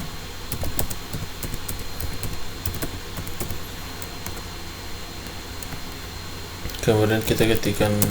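Computer keyboard typing in a terminal while running a Node.js program, scattered light key clicks over a steady background hum, ending with a denser burst of keystrokes; close and soft.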